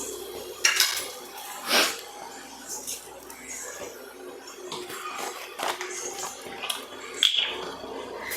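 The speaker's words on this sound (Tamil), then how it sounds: "கடாய் எடுத்து வச்சுக்கலாம் ஸ்டவ்வில் ஸ்டவ் ஆன் பண்ணிக்கலாம்" A kadai pan is set down on a kitchen stove with a few sharp metallic knocks and clinks, and light handling noises come between them.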